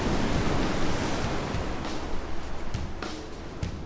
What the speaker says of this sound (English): the waves came crashing back down